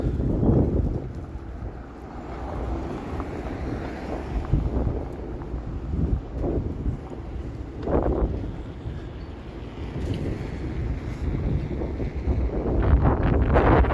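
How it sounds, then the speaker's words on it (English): Strong, freezing wind buffets the microphone outdoors on a Toronto street at about -20°C, a loud, continuous low rumble with gusty surges that runs throughout. "Yeah, the wind is brutal, nasty."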